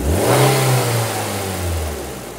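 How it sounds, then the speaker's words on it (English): A car engine revs up as the throttle opens, a loud close rising roar that peaks and then eases back down toward idle, heard alone. "So when I increase the trottle,"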